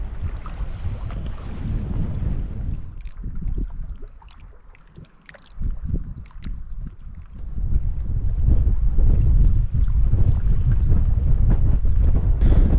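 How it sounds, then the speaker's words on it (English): Strong wind buffets the microphone in loud, rumbling gusts that ease briefly and then return heavier, drowning out everything else outdoors. "The wind's getting on my nerves. It's quite windy in there."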